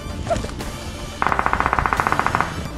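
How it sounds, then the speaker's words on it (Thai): Gunfire in the mobile battle royale game PUBG Mobile: a few scattered shots, then a fast, loud automatic burst of evenly spaced rounds lasting over a second. "ตรงเสียงปืนนั่นแหละ"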